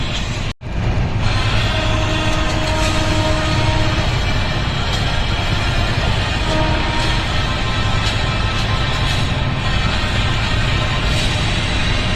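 A train standing at platform 3 of Surendranagar railway station, heard as a loud, steady, broadband rumble with a faint tonal hum that runs unbroken throughout.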